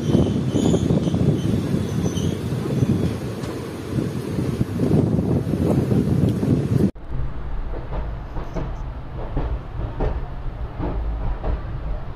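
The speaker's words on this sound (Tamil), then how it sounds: "ட்ரெயின் கிளம்பிடுச்சு" A moving Nagercoil–Coimbatore Superfast Express passenger train rumbles continuously, loud and close with wind buffeting, then the sound abruptly shifts to a muffled, steadier interior rattle.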